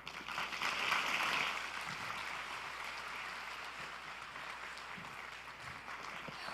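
Audience applause fills a large conference ballroom, dense steady clapping at moderate distance, swelling briefly at the start then holding even throughout with no voices over it.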